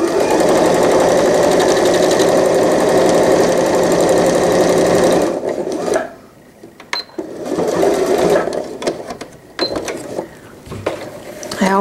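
A sewing machine stitching a welt pocket runs loud and continuous for about five seconds, stops, then sews again in shorter bursts with mechanical clicks between them.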